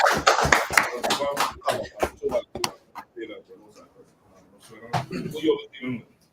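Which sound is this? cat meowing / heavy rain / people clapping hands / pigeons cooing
people clapping hands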